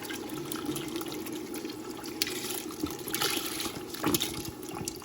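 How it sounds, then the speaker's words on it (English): Beef broth poured from a container into a soup pot with sauteed onions, celery and garlic, a steady liquid splash and trickle running throughout, close and moderately loud, with brief louder surges. "I'm going to pour the remainder of this container of beef broth."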